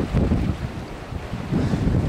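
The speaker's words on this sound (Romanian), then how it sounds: "Bate vântul." Wind blows hard across the microphone at the seaside while out crab hunting, a loud, continuous buffeting roar with gusts swelling and easing, and no voices.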